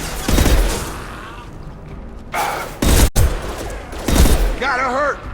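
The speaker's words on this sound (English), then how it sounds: "Firing now." Gunfire in the Mass Effect video game, a few bursts of shots and booms mixed with game effects and a synthetic warbling tone, with voices talking in between.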